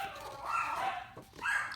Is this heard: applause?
no